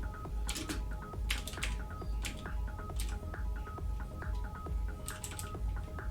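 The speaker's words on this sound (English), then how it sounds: "you can't see what I'm typing" Rapid typing on a computer keyboard, with irregular bursts of sharp clicks close by over a steady low hum, no talking.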